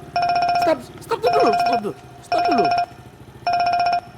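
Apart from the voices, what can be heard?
phone ringtone ringing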